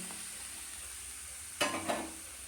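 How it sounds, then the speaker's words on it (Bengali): Ash gourd greens fry in a pan as fried lentil bori and eggplant are added. A steady low sizzle runs throughout, broken by two brief louder stirring bursts near the end. "এবার দেখো আমি ভেজে রাখা বড়ি আর বেগুনটা দিয়ে দিলাম"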